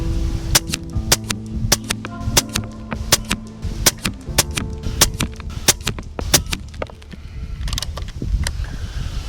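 An Air Venturi Nova Vista bullpup air rifle in .22 fires JSB Jumbo Heavy Diabolo 18.13-grain pellets outdoors in steady wind: a long run of sharp, evenly spaced cracks, roughly one every half second, with mechanical clicks between them.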